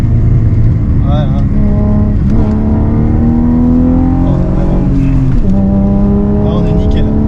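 A 1987 BMW E30 325iX four-wheel-drive car engine revs and pulls through corners, its pitch rising and falling steadily and fairly loud from inside the cabin, with someone talking over it throughout.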